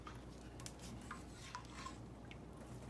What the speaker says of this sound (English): And I'm stirring this. I'm gonna stir it.